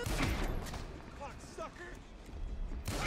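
Shotgun blasts in the video game Grand Theft Auto V: a burst of gunfire opens the moment and another hits at the end, with quieter game sounds in between.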